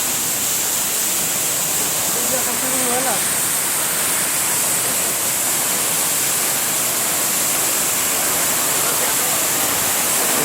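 Pradhanpat waterfall in Deogarh, Odisha, in flood, a steady loud roar of rushing water filling the whole stretch, with a brief faint voice partway through.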